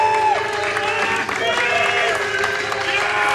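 An esports crowd at a StarCraft 2 WCS European Premier League match applauds and cheers steadily for a player, a dense wash of clapping throughout with a commentator's voice over it.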